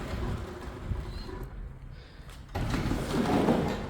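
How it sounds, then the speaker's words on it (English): A Stanley automatic commercial sliding door is pushed closed by hand, giving a low sliding rumble and then a louder, broader mechanical rush in the final second. "sometimes you need to help it to get it started by pushing the doors closed"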